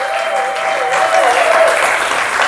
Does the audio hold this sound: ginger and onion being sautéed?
no